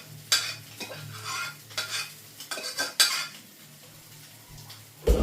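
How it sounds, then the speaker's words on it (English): A frying pan being set into a sink to soak, with clattering metal knocks and scraping, close and uneven, a steady hum beneath, ending in a loud clunk. "And I can get my pan in so that it's not hard to wash up afterwards."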